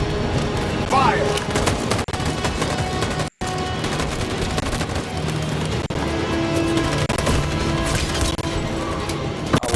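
Gunfire in the video game Detroit: Become Human, a dense volley of overlapping shots and crashes with a brief silent gap partway through, with a voice speaking over the action.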